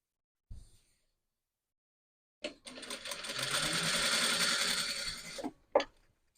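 A sewing machine runs in a short burst of close, buzzing stitching on a blouse, preceded and followed by brief knocks and handling clicks in otherwise quiet surroundings.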